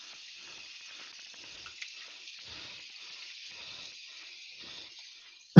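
Thin, steady high-pitched hiss of an air compressor running continuously at moderate distance, faint and unvarying, ending with a sudden loud knock.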